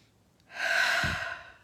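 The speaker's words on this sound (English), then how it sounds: "One more breath to open to receiving." One deep, close breath, a slow airy intake that swells and fades out over about a second with a brief low rumble in the middle, heard alone.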